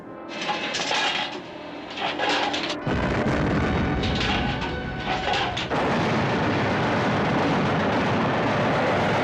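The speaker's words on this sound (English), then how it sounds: "Load and fire." Guns firing in a war film battle set at Okinawa, heavy booming artillery-like blasts and rumbling explosions piling into a continuous loud roar of battle throughout, with no clear talking.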